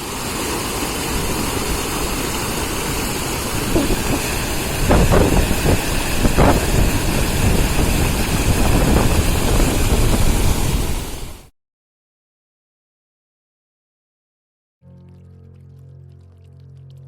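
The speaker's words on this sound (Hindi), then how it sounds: "फिर एक नदी का रूप लेता है और फिर वहाँ से आते आते देखिए आप इस डैम के थ्रू आगे बढ़ता जाता है।" River water pours through the Chandraprabha dam on the Matahini river, a loud, steady rushing roar with wind buffeting the microphone, then a sudden cut to near silence and a faint low hum at the end.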